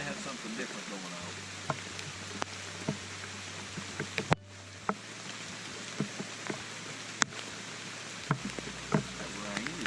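Steady rain patters onto a shelter roof during a wet outdoor fire demonstration, a dense continuous hiss broken by occasional sharp louder drops, with a low hum underneath.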